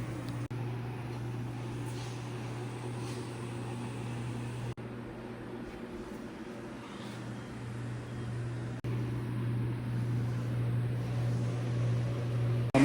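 AC TIG welder tacking aluminum, giving a steady electric buzz with a hum and a hiss over it. The sound runs almost unbroken with a few abrupt cuts and no talking.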